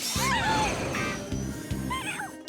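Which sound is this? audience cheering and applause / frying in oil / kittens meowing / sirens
kittens meowing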